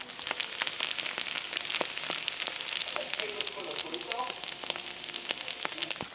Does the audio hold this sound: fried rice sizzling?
yes